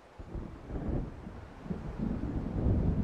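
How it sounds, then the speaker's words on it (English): Thunder from an approaching storm in the Alan Wake video game, a low, distant rolling rumble that builds steadily, heard alone. "It seems there's a storm coming."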